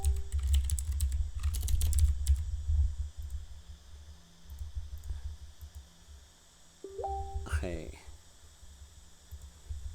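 Someone types a login on a computer keyboard, with bursts of quick key clicks between stretches of quiet room noise, and someone talks over parts of it.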